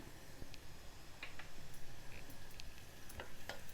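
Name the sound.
cumin seeds frying with onions in oil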